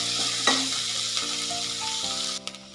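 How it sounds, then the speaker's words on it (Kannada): Onions fry in hot oil for a heralikayi gojju, a steady, loud sizzle that fills the whole stretch, with a brief stirring scrape early on and the crackle easing slightly at the end. "ಈ ಈರುಳ್ಳಿ ಕೂಡ ಸ್ವಲ್ಪ ಸಾಫ್ಟ್ ಆಗಲಿ, ಅಲ್ಲಿನವರೆಗೂ ಎಣ್ಣೆ ಜೊತೆ 1 ನಿಮಿಷ ಫ್ರೈ ಮಾಡ್ಕೊಳ್ಳೋಣ"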